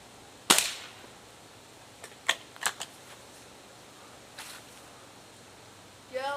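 A Beeman Model 1047 air rifle fires one sharp, loud crack close by, followed by a few smaller metallic clicks and pops a couple of seconds later, with a brief voice-like sound at the end.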